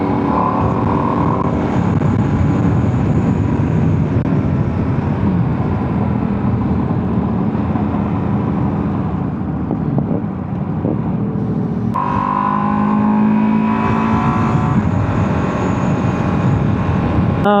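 A Ducati Streetfighter V2S motorcycle on a test ride gives a continuous loud engine roar with wind rush, the engine pitch rising and falling through gear changes, with a sharp surge near the end.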